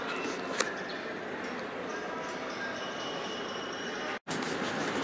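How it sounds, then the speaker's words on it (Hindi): Steady rumbling and rolling of a Karachi Express train pulling into Lahore railway station, Pakistan, a continuous loud wash of rail noise with a brief dropout near the end. "ये एक ट्रेन आई है, क्या नाम है, कराची लाहौर कराची, मे कराची एक्सप्रेस होगी"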